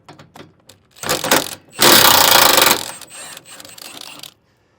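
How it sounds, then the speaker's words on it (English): A spline shoulder bolt is hammered out of a trailer's nylon bushing in a series of sharp metallic blows, with one long ringing burst of impacts in the middle, all close and loud with no talking. "we'll be able to hammer this bolt out"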